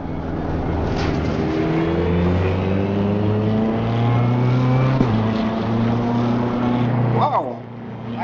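Engine of a BMW M4 GT3 race car in Assetto Corsa Competizione, a loud, steady drone that climbs in pitch through repeated gear upshifts, with a brief dip near the end, under occasional talk.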